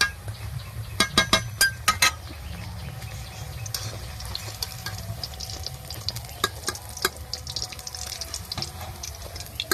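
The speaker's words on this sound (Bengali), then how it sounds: "বাকি সবগুলো আমি ভেজে নেব" Banana flower pakoras frying in hot oil, a soft continuous sizzle with low bubbling, joined early on by a few sharp clinks and scraping stirs, close and quiet with no talking.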